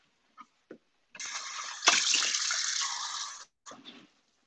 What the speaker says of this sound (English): you can put just a splash of water to loosen it